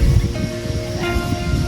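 Strong wind gusts through an outdoor provincial garden area, a broad rushing noise with buffeting low rumble and rustling, loud and close, with a faint tonal whine in the middle and no speech.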